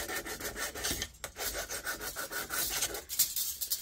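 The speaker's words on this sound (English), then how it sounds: "Filing it down now, just to get any burrs off the edge there." Metal file scraping burrs off the single-flared end of a brake pipe during a Smart ForTwo 450 engine rebuild, a quiet rhythmic rasping of repeated strokes heard close with no talk.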